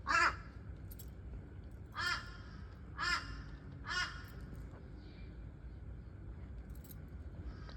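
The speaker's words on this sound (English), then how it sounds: "The crow is right here." A crow caws outdoors, one harsh call and then three evenly spaced ones about a second apart, fairly clear against a low rumble of background traffic.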